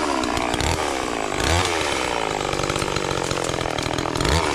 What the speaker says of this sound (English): My little chainsaw here is struggling to tick over.